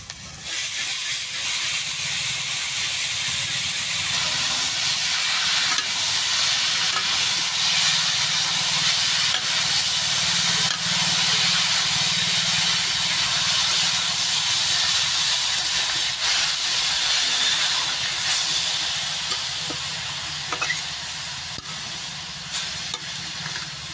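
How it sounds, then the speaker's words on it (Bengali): Garlic, onion, ginger and turmeric fry in a pan, giving a loud, even hiss and sizzle that holds steady throughout, with faint stirring and no voices. "হলদিটা দিয়ে বেশ সুন্দর করে নাড়াচাড়া করে ভাজা ভাজা করি"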